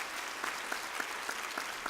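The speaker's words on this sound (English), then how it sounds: "I think she deserves a huge applause." An audience at a health conference general session applauds, a short burst of steady, dense clapping from a large crowd.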